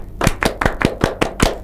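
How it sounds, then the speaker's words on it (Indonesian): Rhythmic tepuk Pramuka, the Indonesian scout clapping routine: about eight sharp, close hand claps in a quick, even pattern, with a few brief syncopated gaps, and no talking. "Kita tepuk Pramuka yuk. Tepuk Pramuka."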